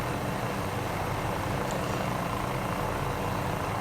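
An MD500E helicopter flies in a flight simulator game, its rotor and engine making a steady, dense, unbroken roar at moderate volume.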